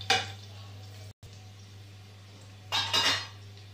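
A metal spoon clatters against a cooking pan while whole garlic cloves are stirred, with two short bursts of scraping and clinking, one at the start and one near the end, over a steady low kitchen hum and no talk.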